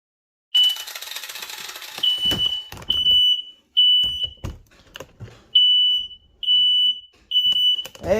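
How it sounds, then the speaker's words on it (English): A household smoke alarm sounds in repeated loud, shrill beeping bursts with short gaps, set off by smoke in a workshop where a Honda lawn mower is being repaired, with some clattering and knocking between the beeps. "good to know my smoke alarm works"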